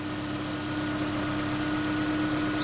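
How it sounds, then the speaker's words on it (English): A 2016 Prius engine swapped into a 2012 Prius V runs steadily in maintenance mode, a constant mid-pitched hum with a faint even whine, close and uninterrupted for the whole stretch. "Here's my new engine running in my gray V5."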